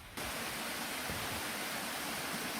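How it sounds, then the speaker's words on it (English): A woodland waterfall, two falls dropping about 10-15 metres, roars as a steady, loud broadband rush of water from start to finish, with no voices over it. "First waterfall you come to, two of them in fact, falling about 10-15 metres."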